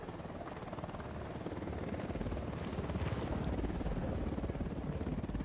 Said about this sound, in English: Down! Get down! Chopper!